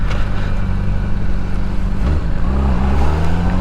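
Motorcycle engine running loud and close with a steady droning rumble, its pitch dropping and shifting partway through as the clutch is pulled and a gear changes, no talk.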